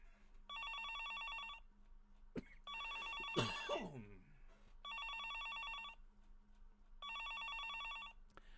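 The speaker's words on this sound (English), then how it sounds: "The phone was ringing." A telephone in the game Higurashi When They Cry Hou rings in four evenly spaced electronic double-bell bursts, each about a second long, with a brief rustling thump and a short vocal sound between the second and third rings.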